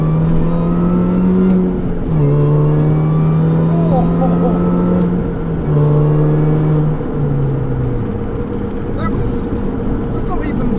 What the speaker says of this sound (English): That's not even full throttle, nowhere near it, but the supercharger, oh, beautiful.